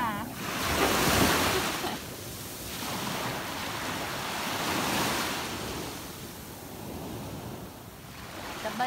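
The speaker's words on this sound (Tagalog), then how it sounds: "Maririnig mo yung alo ng dagat." Ocean waves washing onto a beach at Baler, a steady roaring surf with swells rising and falling, mixed with wind noise.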